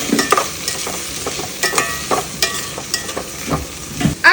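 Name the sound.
ampalaya (bitter gourd) cooking in a pan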